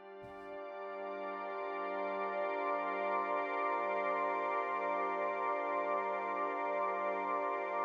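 Synthesizer combi patch blending piano and woodwind tones, with a slow, swelling attack; a sustained chord fades in softly after a brief click and holds steadily with a gentle pulsing shimmer, alone.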